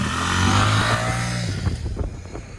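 A Ducati Scrambler motorcycle runs loud and close, its steady engine drone rising then settling into a rougher, pulsing idle-like rumble with uneven bursts toward the end.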